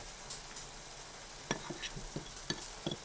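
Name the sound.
shakshuka mixture sizzling and being stirred in a skillet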